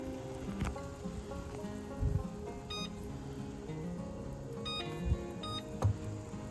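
A kitchen timer is set beside a pot of boiling muscadine jelly, giving a few faint, short electronic beeps in small clusters over a busy kitchen background with occasional clatter.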